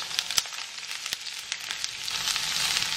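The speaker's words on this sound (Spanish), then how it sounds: "Y aquí en el sartén con aceite vamos a poner la cebolla." Onion dropped into hot oil in a frying pan sizzles steadily and close, a dense crackling hiss with a few sharp pops that grows slightly louder toward the end.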